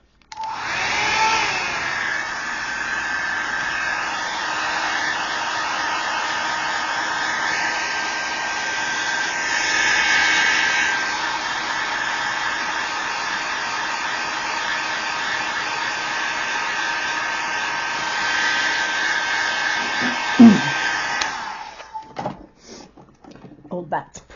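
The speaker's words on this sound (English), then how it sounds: "I am going to rip the stencil off like a band-aid and quickly blow dry around the outside to sort of set the color" A hair dryer blows steadily for about twenty seconds, drying alcohol ink around a stencil, with a continuous close whir that swells slightly at times. It cuts off near the end, followed by a few light handling knocks.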